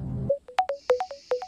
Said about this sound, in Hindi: शरद कुमार राठी को फोन करिए